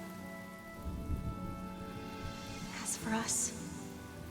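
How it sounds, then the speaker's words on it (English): Steady rain falls in the Penacony area of the video game Honkai: Star Rail, a soft continuous patter with game music beneath, while a voice speaks over it. "The rain will accompany you, and the rain will bless you."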